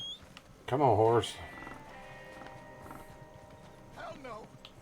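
A horse in the Red Dead Online game clip-clops with soft hoof beats, briefly broken by a loud whinny-like cry and a quieter call later, over a low ambient bed.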